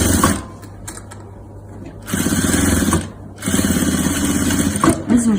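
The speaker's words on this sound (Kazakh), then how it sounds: "Бірдей қылып астында үстінде бірдей етіп отырып тігіп шығамыз." Sewing machine stitching a zipper onto a cushion cover, running loud and close in bursts with brief pauses between runs of rapid mechanical chatter.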